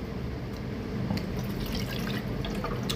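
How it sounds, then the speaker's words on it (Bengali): Maggi noodle soup is poured out, a faint wet trickle and splash close by, with small drips and liquid sounds throughout and no talk. "সুপটা ঢেলে রাখি,"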